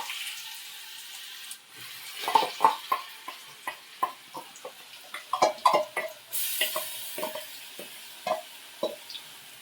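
Ginger garlic paste hitting hot oil with mustard seeds in a pan while making prawn pickle, giving a sizzle with irregular crackles and stirring scrapes, close up and steady, no talk.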